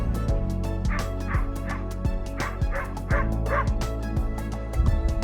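A dog barks repeatedly in a steady series of loud, close bow-wow barks with short yips, heard clearly during indoor go-to-mat training with no talk over it.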